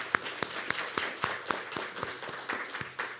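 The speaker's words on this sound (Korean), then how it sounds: "크게 환영의 박수로 와주셔서 감사하겠습니다" Welcoming applause from a church congregation during a Saturday service, a small group clapping in a fairly even rhythm of distinct nearby claps, fairly moderate in level.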